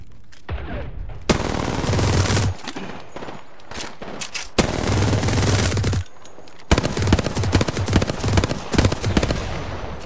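Video game gunfire: loud bursts of rapid automatic fire come in several long volleys, separated by short breaks, close and dominant with no talking.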